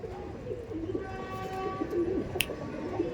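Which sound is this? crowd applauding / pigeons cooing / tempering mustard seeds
pigeons cooing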